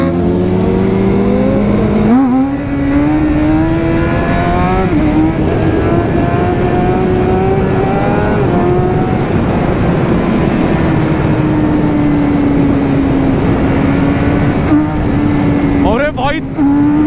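A BMW S1000RR pulls hard in third gear, its engine note climbing and holding loud and close with brief shift dips, under wind rush and occasional voices.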